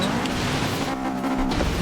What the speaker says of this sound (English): the noise you can hear in the background is still the Subaru